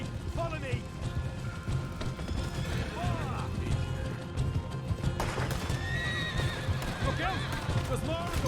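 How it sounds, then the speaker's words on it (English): Horses in Red Dead Redemption 2 whinny repeatedly and gallop with clip-clopping hooves, loud and near, amid commotion and shouted voices. "you get them horses free"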